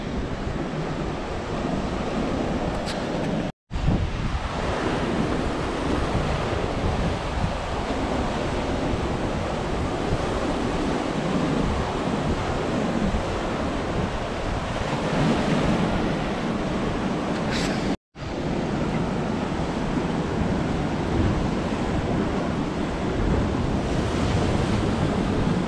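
Sea waves break and wash steadily along a rocky shore at Camp de Mar in Mallorca, a continuous loud roar of surf mixed with wind buffeting the microphone, with two brief cuts and no talking.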